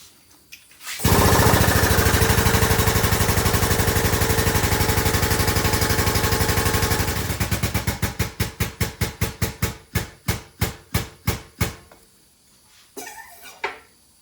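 A Rogue Fab tube bender working steel tubing: a loud, steady mechanical drone for several seconds, then a slowing series of sharp, evenly spaced clacks that thin out and stop, close up with no speech.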